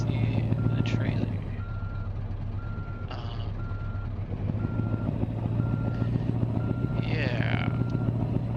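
A reversing truck in Euro Truck Simulator 2 beeps at a steady, regular rhythm while backing a trailer into a parking spot, over a constant low engine drone, with someone talking intermittently.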